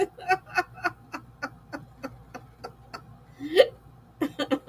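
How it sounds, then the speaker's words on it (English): A person hiccups repeatedly after drinking water too fast, a steady series of short, sharp gulping spasms about every third of a second, close and fairly loud, with one stronger catch near the end and no talking. "That's what happens when you drink water too fast. And then you get the hiccups."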